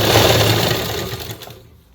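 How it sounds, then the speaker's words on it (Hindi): Sewing machine stitching elastic onto a pair of ladies' pants, a close rapid mechanical whirring and clatter that runs steadily and then fades out as the stitching stops. "थोड़े थोड़े स्टेप्स में सिलाई लगानी है, ज़्यादा नहीं।"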